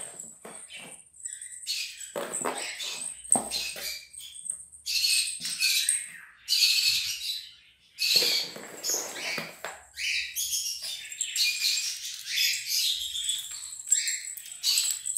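Pet cockatiels, lovebirds and budgerigars chirp and chatter in a busy, continuous mix of bright calls and trills, close by and fairly loud, with no talking.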